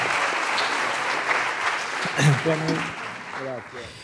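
An audience applauding Gabriel Machado at a live talk event, a full steady wash of clapping that carries through most of the clip, with a voice speaking over it toward the end.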